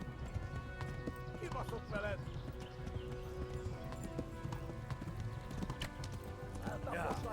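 Horse in the game Kingdom Come: Deliverance galloping, rapid steady hoofbeats close and continuous throughout, with voices talking over them.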